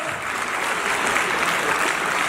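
An audience at a student guidance session in Jalandhar, Punjab claps steadily in welcome of a guest speaker, a dense, even wash of applause that fills the room without a break.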